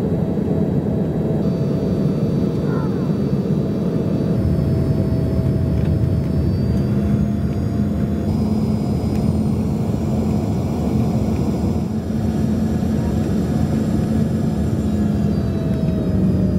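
A passenger plane descends toward landing at Glasgow, its steady engine roar and cabin whir holding loud and constant throughout, with a low drone shifting slightly partway through.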